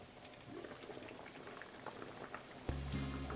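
Korean gochujang jjigae soup with vegetables boiling on medium heat, a steady close bubbling and simmering texture, with a brief louder clatter near the end.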